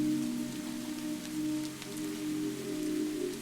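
Steady rain falls over an olive grove, a continuous soft hiss with faint scattered drops, even and close, with no voices.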